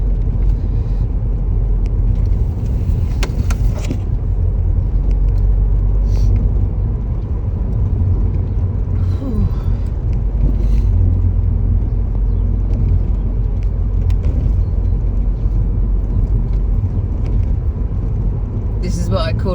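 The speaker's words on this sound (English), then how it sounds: "This is what I call an old-fashioned Sunday drive." Car engine and road rumble from a Sunday drive on a quiet country road with no traffic, a steady low drone throughout with occasional voices from inside the car.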